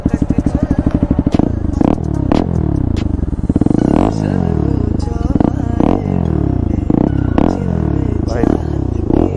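A Bajaj Pulsar NS200 motorcycle with an Akrapovic exhaust rumbles loudly up close, revving in repeated bursts with a throaty, popping exhaust note that rises and falls.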